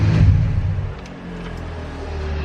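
Car engine idling steadily after fuel pump trouble, a low, even rumble close by with a louder surge at the very start, no one talking.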